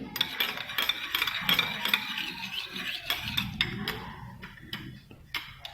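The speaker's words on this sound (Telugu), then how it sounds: "ఇది బాగా బ్లెండ్ అయ్యేలాగా కలపండి." A spoon stirs a vitamin E capsule and castor oil hair mask in a small bowl, giving quick, regular ticking clinks against the bowl's sides in a steady rhythm, close and clear with no talking.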